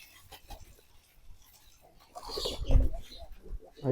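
Soft pigeon cooing and low murmurs grow louder in the second half, with a few brief rustles at a moderate distance.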